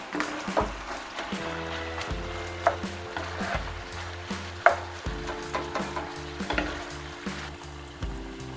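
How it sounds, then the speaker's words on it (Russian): Turkey hearts frying with onion in a pan, under a continuous sizzle and crackle with repeated rhythmic scrapes and knocks of a utensil being stirred, close and fairly loud throughout. "Обжариваем несколько минут с луком."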